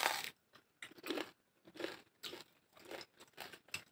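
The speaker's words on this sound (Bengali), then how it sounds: "আমি পিঠা খাচ্ছি, এই যে পিঠা খাচ্ছি আর আপনাদের সাথে কথা বলতেছি।" Pitha rice cake being eaten up close, with crunchy bites and chewing in uneven bursts separated by short quiet gaps.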